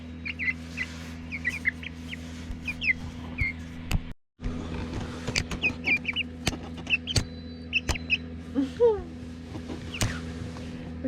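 Young chickens cluck and chirp in short, scattered bursts on a farm on a rainy spring day, heard at a moderate distance over a low steady hum.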